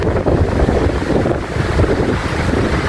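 Storm Kathleen's strong wind at a wild camp with a vintage tent buffets the microphone with a constant loud roar and gusty rumble, no voices, just a dense blustery rush throughout.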